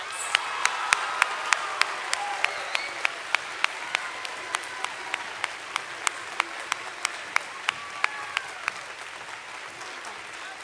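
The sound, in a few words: audience applause at school veterans assembly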